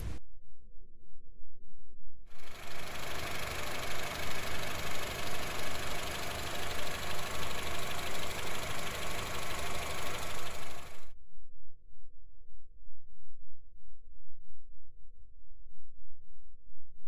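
A car engine idles steadily close by, a smooth, even rumble with a regular pulse that continues throughout, with a broadband hiss covering it for much of the middle.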